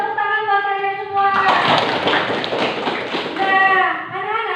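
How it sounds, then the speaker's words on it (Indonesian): Children in a classroom clap their hands together in a short, dense burst of close applause lasting a couple of seconds, with a voice speaking before and after it. "Tepuk tangan buat kalian semua."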